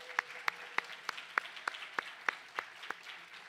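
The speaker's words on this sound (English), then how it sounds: "So I want to give another round of applause to them again" Applause for graduate students at a Three Minute Thesis event comes through as sparse, quiet clapping, with sharp individual claps spaced evenly about three times a second over a soft room background.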